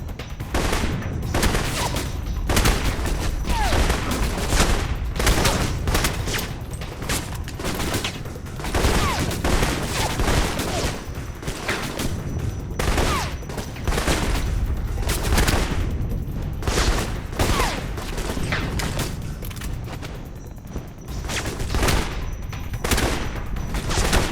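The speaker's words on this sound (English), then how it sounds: "Sniper rifle there." Rapid, dense gunfire throughout a firefight in the video game Alpha Protocol, including sniper rifle shots, with loud repeated bursts and sharp cracks that overlap almost continuously with no talking.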